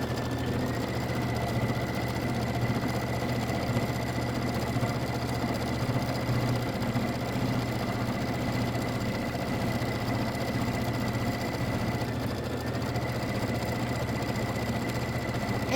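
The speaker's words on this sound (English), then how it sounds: "here comes the little quilting stitch" An embroidery machine stitches a small quilting stitch, a steady, close mechanical hum with fast regular needle chatter that runs unbroken throughout.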